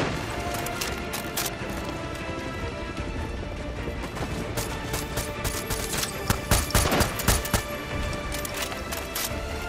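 Dense shotgun gunfire in the Far Cry 6 video game: loud, rapid overlapping blasts and crashing impacts run for the full length, with a heavier cluster of booms near the end.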